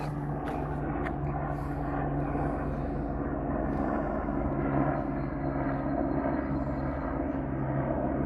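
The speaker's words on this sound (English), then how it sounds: "This is the rescue helicopter" A rescue helicopter that picks up stranded hikers drones overhead as a steady, low rotor and engine hum, holding constant throughout with no voices.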